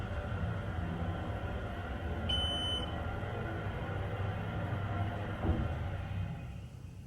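A modded ThyssenDover Impulse hydraulic elevator motor hums steadily at moderate volume, with a brief high electronic beep partway through and a small thump near the end before the drone fades slightly.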